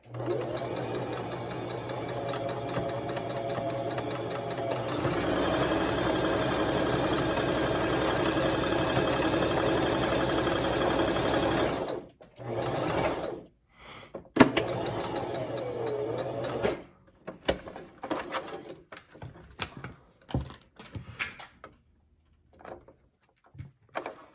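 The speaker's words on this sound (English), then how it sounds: "Leave the needle in the machine down in the presser foot so it just turns the material." A sewing machine stitches fabric for a face mask, running in a loud steady whir with a pitch shift partway, then stopping and restarting in short bursts amid handling clatter.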